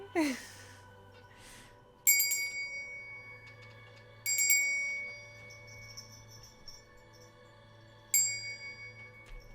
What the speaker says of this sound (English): Oh my gosh, is this my cat bell?